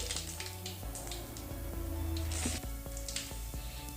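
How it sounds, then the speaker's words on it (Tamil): Curry leaves go into hot sesame oil already spitting with mustard seeds, giving a steady close sizzle with bursts of crackle and faint stirring clinks, no voices. "கருவேப்பிலை ஆட் பண்ணிக்கோங்க."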